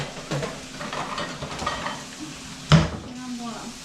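Bacon frying in a pan, a continuous soft sizzle with faint stirring scrapes and one sharp clink of a utensil against the pan, close up and without talk.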